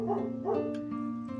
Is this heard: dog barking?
yes